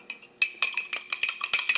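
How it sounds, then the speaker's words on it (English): Quick, irregular metallic clinking of a utensil whisking eggs in a coffee cup, bright and close, with no talking. "I like to whisk my eggs in a coffee cup."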